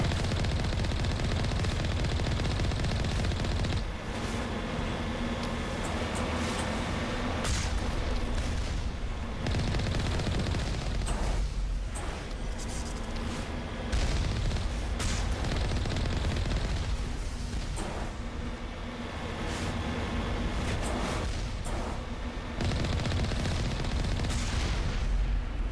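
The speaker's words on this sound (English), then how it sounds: "Someone shooting at me" Sustained video game gunfire, dense bursts of automatic weapon fire rattling almost continuously for about twenty-five seconds, loud and close with brief lulls between volleys.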